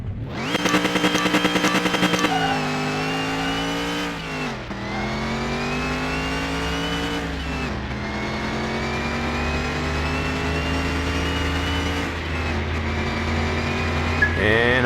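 Car engine in Car Mechanic Simulator 21, a tuned engine revving hard. Strained, buzzy revs rise in pitch, drop, then climb again across several sustained pulls, loud and close throughout with no talking over it.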